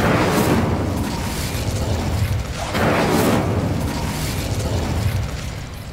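Incendio fire spell cast in Hogwarts Legacy, a roaring burst of flame and booming blasts forming a continuous loud whoosh with two swelling surges, close and full.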